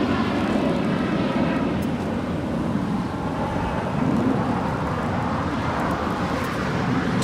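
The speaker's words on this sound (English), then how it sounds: "The Dreamliner is the next departure there on the north side." A Boeing 787 Dreamliner departs LAX, its jet engines a loud, continuous broadband roar that holds steady and fills the whole stretch with no voices over it.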